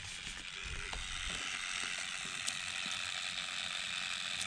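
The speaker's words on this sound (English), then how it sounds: "So my aileron servo was doing all the chattering." Aileron servo chattering on an E-flite Corsair RC plane, a continuous fine mechanical rattle and buzz at moderate level with occasional sharper ticks, heard alone.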